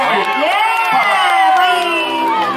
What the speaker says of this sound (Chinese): 主角要掌声欢迎杜新年、李子深，四月望雨